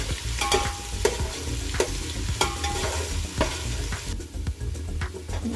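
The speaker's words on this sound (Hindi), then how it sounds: "अनियन को भी गोल्डन ब्राउन होने तक फ्राई करना है" Onions frying in a pan until golden brown for an aloo matar gobi pulao, a continuous crackling sizzle with regular scraping strokes of a stirring spoon, no talk.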